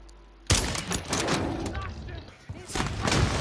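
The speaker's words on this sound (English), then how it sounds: "Are you shooting?" Gunfire in the video game Modern Warfare 3, with a sudden burst of heavy shots and booming reports followed by continued rattling fire and a second loud volley, mixed with player voice chat.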